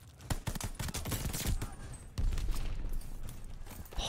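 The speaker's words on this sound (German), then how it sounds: "Der Panzer hat die geholt. Digga, der Panzer, der ballert so rein." Tank cannon and heavy gunfire in the shooter game Call of Duty Vanguard, a loud, dense string of close blasts and bursts with a big boom about halfway through, under a busy battle din.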